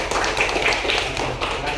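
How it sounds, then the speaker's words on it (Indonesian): A class clapping in applause, a dense continuous patter of many hands filling the room at close range. "tepuk tangan dulu."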